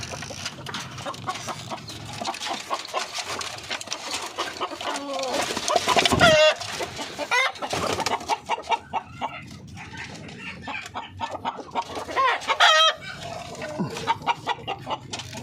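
Darag breeder hens clucking and calling steadily in a farm pen, with busy overlapping fowl sounds throughout and a louder burst of cackling midway and again near the end, with no talking.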